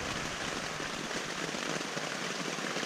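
Rain falls steadily on a tent pitched on a hillside campsite, a soft, even hiss of drops with no voices, quiet and constant.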